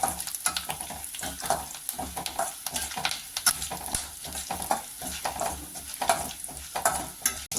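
Cashew nuts and curry leaves frying in a pan over a low flame, giving a steady close sizzle broken by frequent scraping and stirring clicks from a spoon.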